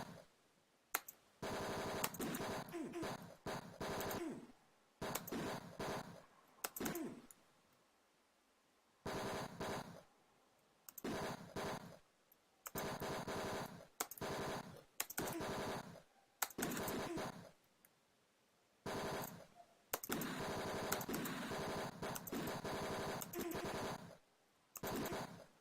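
Gunfire in the video game Tex Murphy: Mean Streets, harsh crackling bursts of retro digital shots that come in repeated stretches of a second or two separated by silent gaps, loud and alone.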